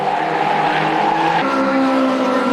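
Caterham race cars scream through a circuit corner under braking, loud high-pitched engine notes shifting down as tyres squeal, with commentary running underneath.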